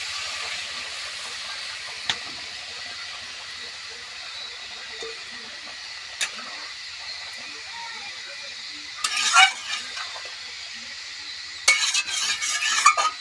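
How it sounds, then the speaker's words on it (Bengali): Hot water goes into a pan of paneer curry that has been fried down, and a spoon scrapes and stirs against the pot under a soft sizzle. Stronger splashing, stirring bursts come near the end, close by, with no talking. "এখন হচ্ছে এই যে এটার মধ্যে গরম জল দিয়ে দিচ্ছি"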